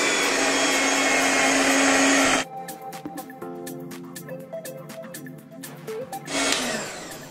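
An electric hand mixer beats 500 grams of cream cheese for a no-bake Oreo cheesecake: a loud, steady motor whir runs for about two seconds, cuts out during a stretch of music, then starts again briefly at the end.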